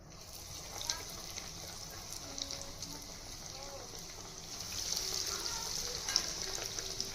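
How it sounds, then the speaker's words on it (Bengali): Egg bread patties fry in hot refined oil in a pan, giving a soft, steady sizzle with faint crackles that grows a little louder in the second half, with no talking. "এবার আমি এইগুলোকে ভেজে নেব।"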